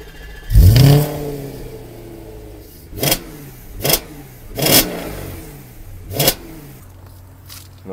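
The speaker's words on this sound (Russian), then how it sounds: "предлагаю ее завести и насладиться вот этим вот породистым атмосферным звуком V8" An Audi RS5 with a naturally aspirated V8 fires up with a loud starter whir and a rising bark, then settles into idle broken by four sharp throttle blips spaced about a second apart.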